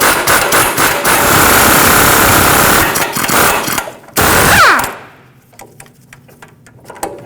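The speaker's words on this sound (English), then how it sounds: "We have to remove this mounting nut with a 21mm socket and separate these." An impact tool hammers rapidly on an upper ball joint nut with a 21mm socket on a 2007-2017 Ford Expedition front suspension, a loud rattling burst of several seconds that stops, followed by faint clinks.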